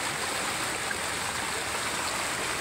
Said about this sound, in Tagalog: Nasa gilid lang ng sapa.